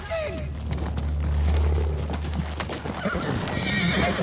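Horse hooves clip-clop in a rapid gallop with loud whinnies and neighs in the video game Ghost of Tsushima, voices shouting faintly underneath.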